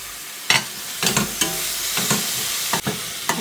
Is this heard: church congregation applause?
no